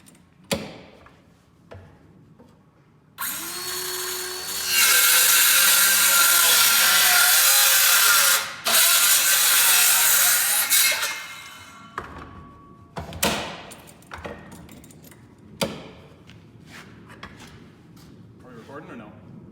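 Hand saw cutting scrap barn wood for a birdhouse side, a loud steady rasp of strokes lasting several seconds, then scattered knocks and handling of the wood, with people talking nearby.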